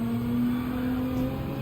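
A race car in the Gran Turismo 7 video game held high in one gear without upshifting, a loud steady engine drone near the rev limit that stays constant with no gear change.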